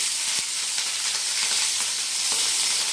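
Chopped onion dropped into garam masala frying in hot oil, giving a dense, steady sizzle and hiss close by with a few faint clicks, no voices.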